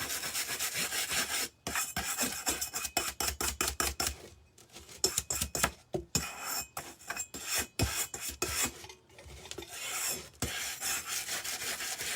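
A rusty oil lamp is scrubbed by hand to remove grime, producing rapid rhythmic rasping strokes in close bursts separated by brief pauses, loud and harsh with no speech.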